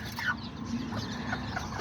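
Serama chickens in a backyard flock make soft, scattered clucks, fairly faint against a steady low background hum, with no talking.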